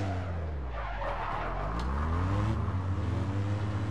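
A vehicle in APB Reloaded pulls away, its engine rising in pitch as it accelerates, with tires scuffing and squealing briefly. Loud and close, no speech.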